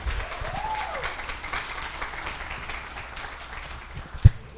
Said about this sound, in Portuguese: E nós gostaríamos de solicitar mais uma salva de palmas a ela